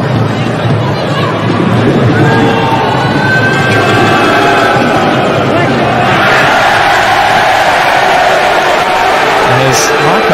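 Dense crowd roar and babble fill a stadium throughout an AFC Champions League 2019 football match between Persija Jakarta and Newcastle Jets, swelling louder around the middle and holding steady to the end.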